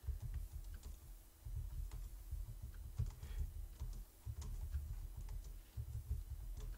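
Keys clatter on a computer keyboard while text is typed into a Visio organisation chart, a steady patter of soft, close taps running throughout over a low hum, with no talk.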